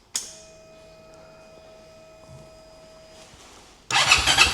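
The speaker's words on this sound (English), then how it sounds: "First ever time it's firing up." A brand-new motorbike engine cranks for its first-ever start, a sharp click and faint whirring lead-up, then bursts into a loud, close, rough running roar at the end.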